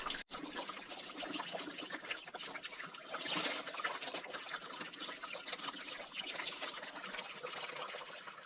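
Coolant drains from the radiator of a Jeep JK with a Pentastar engine into a pan, making a faint, continuous trickle and patter that holds steady throughout.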